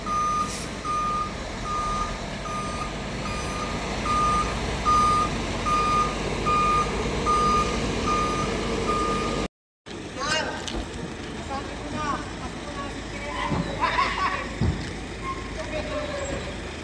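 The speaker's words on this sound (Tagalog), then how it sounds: "Guys, ito na yung pangalawang truck. Binababa na." A truck backs up with a steady, regular reverse alarm beeping for several seconds over engine rumble. After a brief cut, more engine noise and clanks follow as the second truck is unloaded.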